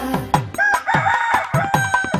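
A rooster crows a drawn-out cock-a-doodle-doo in a Telugu children's nursery rhyme, loud and close over a regular rhythmic music beat with no talking.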